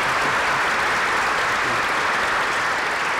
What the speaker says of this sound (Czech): A to chce potlesk.